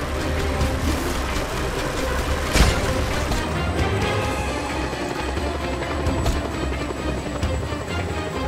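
Helicopter in the video game Just Cause 2, a steady loud rotor and engine drone filling the scene with a sharp impact near the start, no speech over it.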